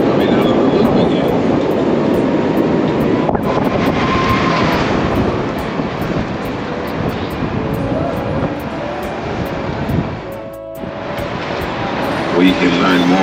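A loud, continuous rumble and clatter of a Chicago elevated train passing close overhead, heard from a tour bus underneath, with rhythmic clicks and a voice talking underneath the noise.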